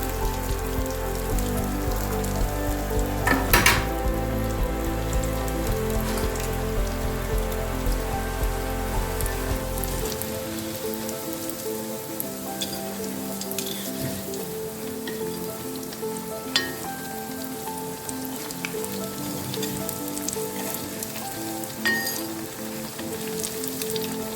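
Chicken kola urundai meatballs deep-frying in hot oil, a dense, steady crackling sizzle that runs throughout, with occasional clinks of a utensil stirring in the pan and no talk.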